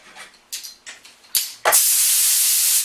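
Spray gun shooting a lacquer finish onto a mandolin: a few short hissing bursts, then one long, loud, steady spray hiss close by, alone with no voices.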